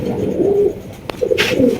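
Super Mili racer pigeons give soft, low cooing calls, close by, with a brief rustle and a sharp flutter partway through.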